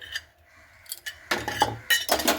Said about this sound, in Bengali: তো দেখুন দুধটা দিয়ে খুব ভালো মতো করে একটু নাড়াচাড়া করে নিচ্ছি